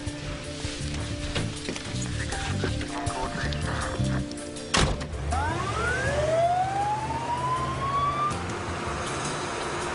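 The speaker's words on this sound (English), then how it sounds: "Tommy, I'm going to go with the ambulance." Emergency vehicle siren rising and sweeping in pitch after a sharp bang, heard amid busy outdoor background noise as an ambulance pulls away.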